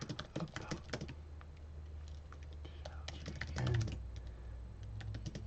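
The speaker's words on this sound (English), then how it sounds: "I'll type it right here" Quick bursts of keystrokes on a computer keyboard, close and crisp, coming in uneven runs with short pauses and a soft breathy voice faintly underneath.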